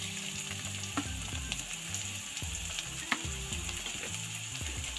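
Thinly cut beans for vegetable chitrannam fry in a pan with a continuous hiss, while a stirring utensil adds faint, uneven scrapes and clicks throughout.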